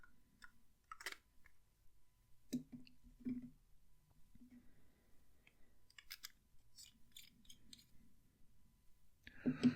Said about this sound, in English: Let me cap these.